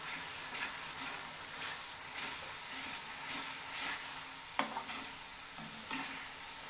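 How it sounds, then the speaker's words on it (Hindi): Ground coriander is stirred and fried into an oily masala paste for paneer masala, a steady sizzle under repeated scraping spoon strokes in the pan, close and moderately loud with no talk. "हाफ स्पून डाल देंगे पिसी हुई धनिया, और इसे भी अच्छे से भून लेंगे।"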